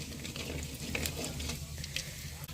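Rice fries in hot oil with cumin and mustard seeds in a pan over a wood-fired stove, a continuous loud sizzle broken by stirring scrapes, with no talking.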